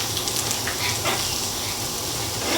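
Bok choy and carrots stir-frying in olive oil in a pan give off a loud, continuous sizzle with faint stirring, no voices present.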